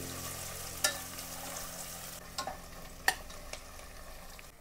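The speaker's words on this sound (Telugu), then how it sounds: "ఆనియన్స్ ఫ్రై అయ్యాయి. ఇప్పుడు మంచిగా కలుపుకోవాలి." Onions fry in a pan for chicken dum pulav, giving a steady, quiet sizzle while a spoon stirs them, with a handful of sharp taps against the pan spaced irregularly.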